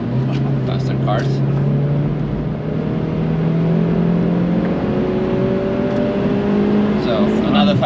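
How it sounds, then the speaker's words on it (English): A fast car approaches on the Nürburgring, its engine loud and close with a steady, rising drone as it revs and draws nearer. "So, another fast car incoming."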